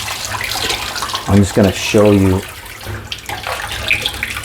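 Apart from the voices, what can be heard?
rinsing PD 590 electronic air filter cell with hot water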